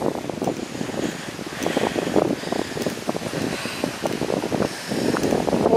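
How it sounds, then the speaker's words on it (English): Wind gusting across a hill walk on the Macmillan Way near West Bagborough and Bicknoller, a continuous rough buffeting roar against the microphone with no talk. "It's quite breezy."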